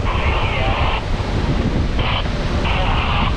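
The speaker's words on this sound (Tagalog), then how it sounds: "Kusuging hangin mga guys." Strong wind roars and buffets the microphone in loud, continuous gusts near a ship, with a faint voice mixed into the blustering noise.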